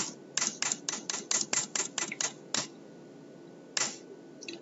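Fingers typing on a computer keyboard during accounting software entry, a rapid run of about ten crisp clicks followed by a pause and one firmer key press, close and isolated without speech.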